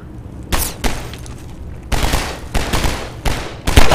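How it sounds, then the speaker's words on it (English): Gunfire in the Half-Life 2 video game, several loud, close bursts of rapid shots separated by brief lulls, with a heavy final burst. "Who is shooting me?"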